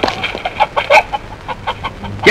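A chicken clucks in quick, irregular bursts, close and loud, with a sharper squawk at the end, in a comedy film scene.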